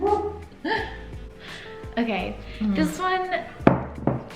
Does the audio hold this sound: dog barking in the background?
yes